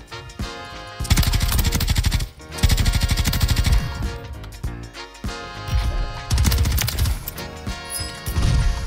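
Rapid bursts of automatic gunfire crackle loudly in the shooter video game Warzone, several long sustained volleys separated by brief pauses, with no talking.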